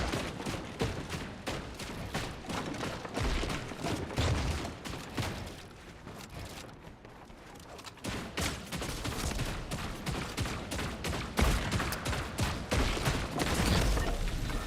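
Dense rapid gunfire from a shooter video game aim trial, bursts of sharp automatic shots repeating almost without pause, loud and close throughout.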